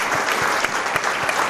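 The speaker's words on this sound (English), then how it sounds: "A round of applause for each of the" An audience claps for panelists at a mining-industry conference, dense, steady applause filling the room with many hands at once, close and loud throughout.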